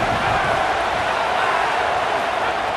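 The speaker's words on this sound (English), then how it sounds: "Hang on, Swoopy, the Buckeye crowd alive on 3rd down." Stadium crowd noise in College Football 27 as the Ohio State Buckeyes home crowd roars on third down against LSU, a loud, steady wash of cheering that fills the whole stretch without a break.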